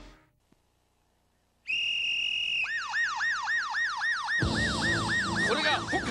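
After a moment of quiet, a toy police car siren starts with a steady tone, then wails in rapid repeating sweeps, joined by a shrill electronic signal whistle, loud and close.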